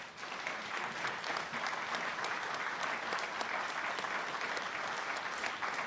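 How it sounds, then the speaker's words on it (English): An audience at a military change of responsibility ceremony gives steady, dense applause for Sergeant Audie Murphy Club members, a continuous wash of many hands clapping at even loudness throughout. "Give them a round of applause, folks."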